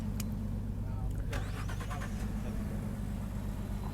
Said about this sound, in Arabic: اي طفيه، شغل السيارة صح